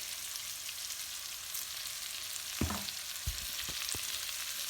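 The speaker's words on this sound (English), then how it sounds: "all the bacon grease in the pan, just gonna let us kind of fry these potatoes up, kind of like home fries almost" Potatoes fry in bacon grease in a cast iron pan with a steady, quiet sizzle, broken by a few sharp clinks and scrapes from stirring near the end.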